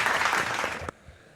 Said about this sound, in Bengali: আগে তো হাততালি বাবা